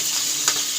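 A steady hiss of potato sizzling in a hot pan, brief and even, with a faint scrape partway through.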